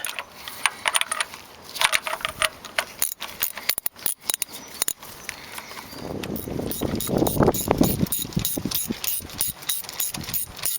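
A 30mm socket on a ratchet wrench loosens large nuts from the spark plug apertures of a Toyota Carina engine cover, giving rapid close ratcheting clicks in bursts, followed by a louder stretch of continuous grinding clicks.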